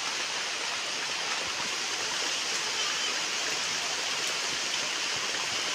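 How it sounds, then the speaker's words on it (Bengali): Heavy rain pours in a dense, even hiss that holds steady throughout, with no voices or other sounds. "বৃষ্টি ভিজে প্রচণ্ড বৃষ্টি চলছে।"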